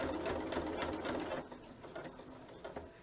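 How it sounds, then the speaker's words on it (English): A sewing machine stitches a crazy quilt block: a close, steady mechanical whir runs for about a second and a half, then eases into lighter, intermittent stitching. "And you want to try and sew as straight as possible."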